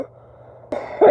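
A single rough cough follows a brief quiet stretch, close and fairly loud, ending in a harsher burst.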